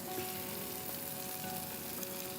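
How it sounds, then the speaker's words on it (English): Onions sautéing with green chili and curry leaves in a home kitchen pan, a steady close sizzle and crackle of frying that holds evenly throughout with no voices. "slightly saute the onions, just to give it a nice caramelization"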